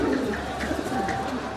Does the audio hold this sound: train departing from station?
no